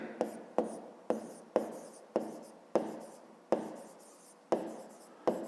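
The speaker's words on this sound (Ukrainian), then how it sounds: "Давайте запишемо тоді перша дія" Pen strokes on paper while writing out a fifth-grade math solution, a repeated series of short scratchy strokes, each starting sharply and trailing off, close and fairly quiet, with no talking.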